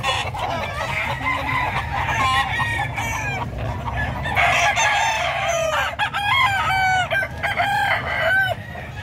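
Chickens and roosters at the San Carlos City livestock market in Pangasinan, a dense, steady chorus of overlapping crows and clucks from many birds close by, with no let-up.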